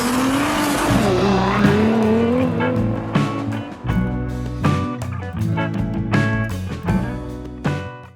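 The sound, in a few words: Chevrolet Tracker car accelerating hard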